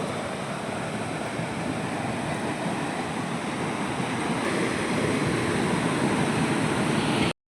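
Steady, loud rush of falling water, a dense broadband roar that continues without a break and swells slightly near the end before stopping abruptly.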